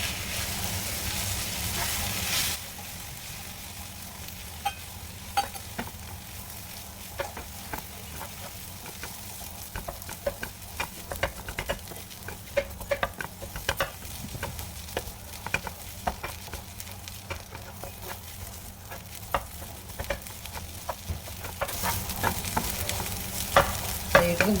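Egg-coated bread toasts in a frying pan with a steady close sizzle, broken by frequent light clinks and scrapes of stirring and turning, with no voices.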